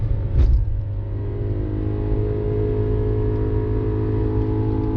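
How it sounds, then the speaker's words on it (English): A 2011 BMW E90 M3 engine drones steadily at a high rev while driving, with a brief sharp blip at the start, loud and close. "just listen to that engine"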